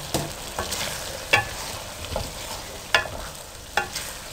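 Potatoes frying with minced meat in a pan for dhaba-style aloo keema, heard as a soft steady sizzle broken by several sharper scrapes and knocks of stirring, close by.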